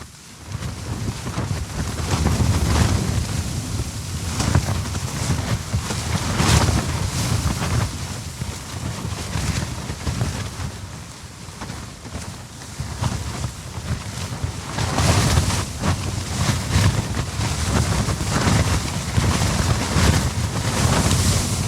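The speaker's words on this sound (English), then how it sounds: "it's been a pretty windy night, and it's pretty windy this morning." Strong wind on a winter mountain during a solo goat hunt, a constant loud buffeting roar with gusts swelling and easing, heavy rumble hitting the microphone throughout and no one talking.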